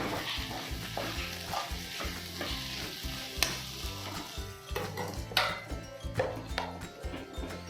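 Potato and capsicum fry sizzling in a pan, a steady close frying crackle broken by stirring scrapes and light clinks of a utensil against the pan, with no voices.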